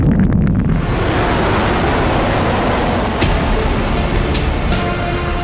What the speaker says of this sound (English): Liftoff confirmed.